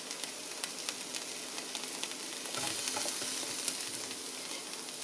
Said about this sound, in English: Traditionally, you're supposed to fry everything, but of course I don't use oil, so I'm doing it without oil.